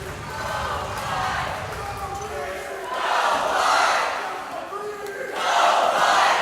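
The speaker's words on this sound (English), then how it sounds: "listen to the crowd" Crowd noise at a college dodgeball title game between Michigan State and Grand Valley State, with loud swelling cheers and shouts that come in waves, mixed with the bounce and slap of balls in an indoor arena.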